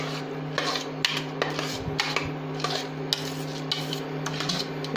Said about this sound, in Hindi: अब हम इसमें दूध डाल देंगे और अच्छे से चलाते हुए इसको पकाएंगे।